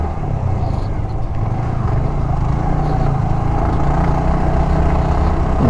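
Motorcycle engine labouring at low speed up a steep, winding hill road, a steady low drone that stays loud and close throughout, with no throttle surges.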